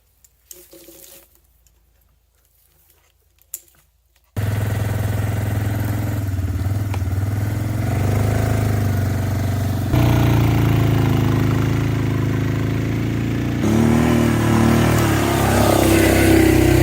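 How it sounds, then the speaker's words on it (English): A four-wheeler ATV engine starts up loud and close after a few quiet knocks, then runs steadily with shifts in load and pitch while hauling a log section along a woodland trail. "now I'm going to get it into the trail and then drag it out with the four-wheeler"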